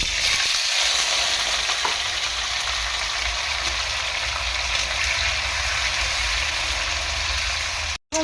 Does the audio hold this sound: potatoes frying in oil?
yes